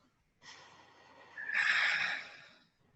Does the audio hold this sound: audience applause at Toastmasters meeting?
no